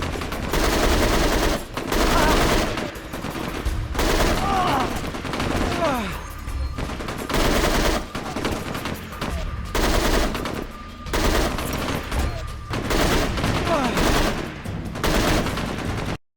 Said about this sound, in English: just take a look at how many hits it takes to kill this guy with an M16 at range